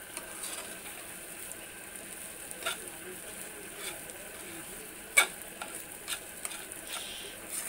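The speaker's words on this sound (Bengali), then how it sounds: "আর এই চালগুলো একটু ভালো করে ভাজতে হবে" Rice grains frying in a pan for prawn pulao, stirred now and then, producing a faint steady sizzle with occasional light scrapes and clicks of the spoon, fairly quiet and without speech.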